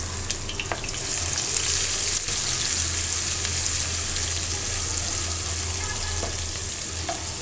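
Chopped onion sizzling in hot oil with cardamom and cinnamon in a pan, a steady, fairly loud frying hiss that swells after the first second and carries on throughout, with occasional faint stirring clicks.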